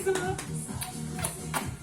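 A few scattered hand claps at a small home birthday party for a four-year-old, close by and fairly soft, with voices talking underneath.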